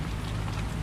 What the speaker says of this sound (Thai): ฝนตกเยอะด้วย